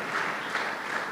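A church congregation applauds in a steady, dense wash of clapping throughout, fairly loud and continuous with no pauses.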